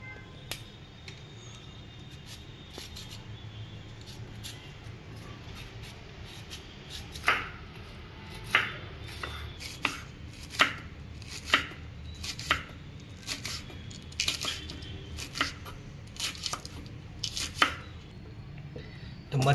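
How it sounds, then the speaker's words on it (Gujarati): Green chilies being chopped with a knife on a board, quiet at first, then a run of sharp, irregular chops growing more frequent, close and crisp with no talking. "આ 3 મરચાંની કટકી કરી નાખીએ"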